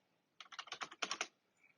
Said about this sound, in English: we go to the keyboard and type Control F or Command F on a Mac